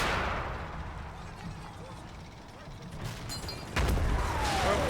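Artillery fire from Combat Mission Battle for Normandy, a war game: distant booms and rumbling impacts roll through a low background din, with a heavier blast near the end.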